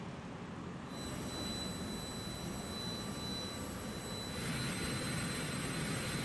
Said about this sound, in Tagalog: lumapag sa bansa ang eroplanong sinakyan ni dating Mayor Alice Go kaninang 1:10 a.m